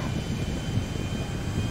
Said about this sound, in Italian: Come vedete, abbiamo già un bel motore, bello in fiamme.